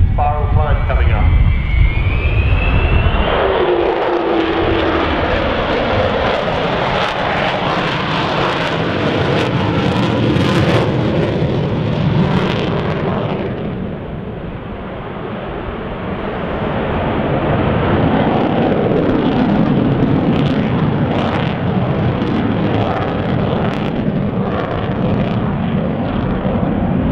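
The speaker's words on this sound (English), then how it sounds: "Magnificent sound of 4 Rolls-Royce Olympus 202 engines" Avro Vulcan jet bomber with four Rolls-Royce Olympus 202 engines in a spiral climb at an air display, a loud, continuous, broadband jet roar that swells and fades with wind buffeting, with crowd voices underneath.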